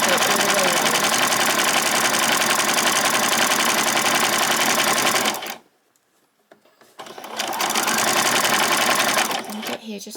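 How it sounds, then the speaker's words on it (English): A sewing machine runs a zigzag stitch on pajama bottoms, a loud steady whirring chatter that stops for about a second and a half, then starts up again and keeps running. "we're going to go around and do a zigzag stitch all the way around"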